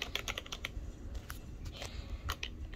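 A $19 one-handed hybrid-switch keyboard from Walmart clacks under quick bursts of typing, rapid close keystrokes with short pauses between clusters.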